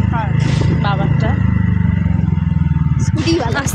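A scooter ridden slowly on a winter evening outing, its low engine drone steady and close throughout, with voices talking over it.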